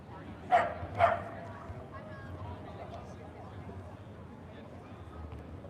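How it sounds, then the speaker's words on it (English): Two sharp dog barks in quick succession near the start, then a steady low outdoor street rumble; voices murmur faintly in the background. "So it's a very noisy dog here."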